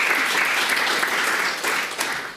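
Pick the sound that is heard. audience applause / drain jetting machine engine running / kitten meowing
audience applause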